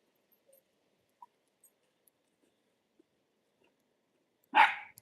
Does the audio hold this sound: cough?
no